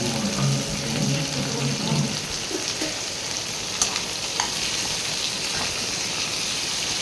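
Brinjal, drumstick and potato pieces being sautéed in oil in a pan for a spicy kara kuzhambu, giving a steady close sizzle and frying hiss with occasional stirring clatter throughout.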